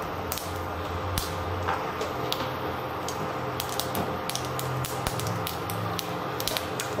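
Mustard and fenugreek seeds splutter in hot sesame oil, giving a steady dense crackle with sharp pops scattered throughout, close and continuous with no talking.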